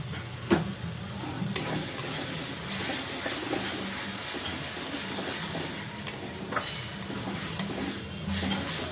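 A dish with Kashmiri chilli, salt and sugar fries in a pan over a low gas flame, giving a steady bright sizzle. Occasional stirring clicks and utensil taps sound close by.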